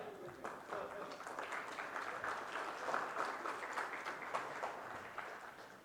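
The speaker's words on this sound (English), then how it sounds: "a round of applause to honor Shri Jyotiraditya Scindia ji and Ministry of Communications for their extraordinary contributions" Audience applause at a World Wi-Fi Day conference inauguration, honoring a government minister and the Ministry of Communications; steady, moderately faint clapping from a seated crowd, continuous throughout with a roomy, distant quality.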